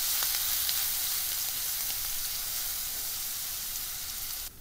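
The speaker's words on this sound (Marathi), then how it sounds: "ह्यात मिरचीचे वाटलेले मिश्रण घालून परतून घेऊया।" Ground green chili paste sautés in a pan, a steady close sizzle and hiss that runs unbroken for several seconds before dropping off abruptly at the end.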